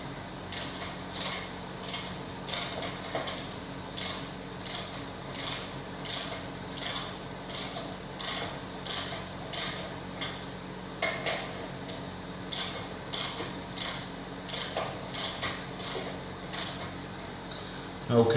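A Dixon transaxle on a workbench as a bolt is tightened down, giving a steady run of close metallic ratchet clicks with small pauses between them.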